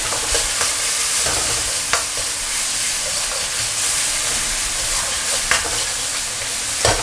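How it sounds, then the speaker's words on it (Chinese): Garlic, ginger, scallion and pickled chili stir-frying in wok oil over low heat, a steady close sizzle and hiss with the scrape and clack of a spatula stirring through the pan. "开小火，下这个蒜米、姜米，还有这个葱头，然后再来点这个泡辣椒"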